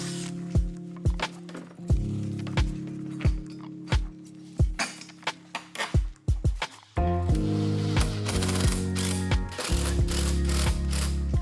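A ratchet tightens bolts through metal brackets on a go-kart built from a Corvette bed, clicking rapidly in repeated bursts, stopping and starting, then a steadier run of louder ratcheting with metallic clinks, close by.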